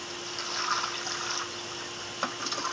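Water poured from a bucket into a wheelbarrow of Portland cement stucco mix, a steady close splashing rush lasting throughout with no voices.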